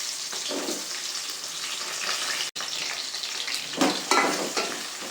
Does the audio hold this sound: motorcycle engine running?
no